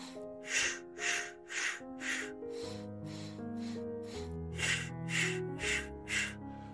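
A person does a breath-walking exercise with rapid patterned breathing, four short sniffing inhales in a row and then four exhales, repeating in a regular rhythm over a soft sustained musical drone.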